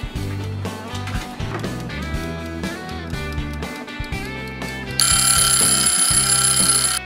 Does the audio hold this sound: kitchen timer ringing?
yes